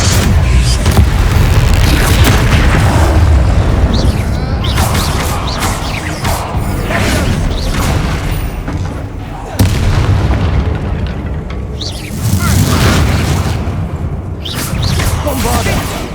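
Bombarda spell blasts in Hogwarts Legacy, fought against a troll: heavy, loud booms and crashing impacts roll almost without pause, with game voices calling out now and then.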